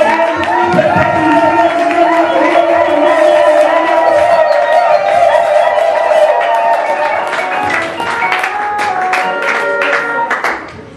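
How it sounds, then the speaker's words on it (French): A church congregation at a special worship service cheers and acclaims loudly and continuously, with whoops, claps and raised voices over sustained music and singing, fading slightly toward the end. "Des acclamations."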